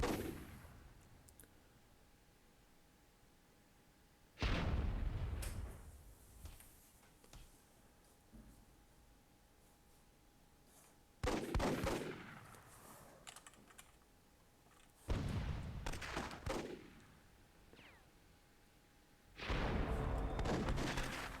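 Cannon and gunfire in a World War II match of Myth II Soulblighter arrive as four loud bursts of booming shots and crackling fire, spaced several seconds apart with quieter gaps between them.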